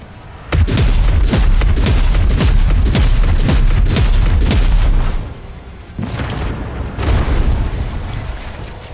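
Ships are destroyed in Warhammer 40,000: Rogue Trader as a loud run of heavy, rumbling booms and explosions rolls on for several seconds. It pauses briefly, then resumes slightly softer.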